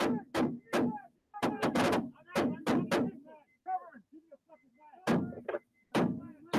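Repeated sharp gunfire from a video game, loud clustered bursts of shots with brief gaps, a short quieter stretch of softer sounds, then more shots; voices talk faintly around the bursts.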